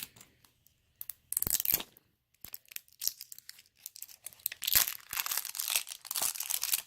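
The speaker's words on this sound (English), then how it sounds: "Open up the zipper." A zipper on a LOL Surprise toy package is pulled open in several bursts, with sharp crinkling and tearing of plastic, close and loud, with no speech.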